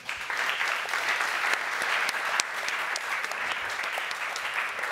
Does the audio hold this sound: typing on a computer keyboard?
no